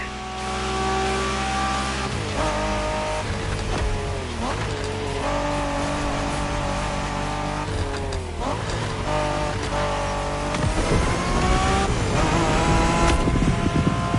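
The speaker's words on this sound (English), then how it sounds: "We're going for some proper Japanese street racing." Cars street racing in The Crew Motorfest, engines revving loudly and shifting pitch through gear changes, with tires squealing and cars passing close throughout, a dense continuous roar with no talk.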